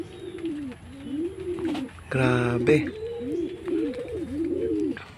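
A returning racing pigeon, flown home from Urdaneta, Pangasinan, in rainy weather, coos in close, repeated rhythmic rolls throughout, briefly overlapped by a short spoken exclamation.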